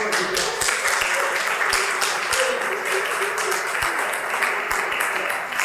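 A lecture-hall audience at a university leadership session breaks into continuous, dense applause that holds steady for several seconds, with a few louder individual claps standing out.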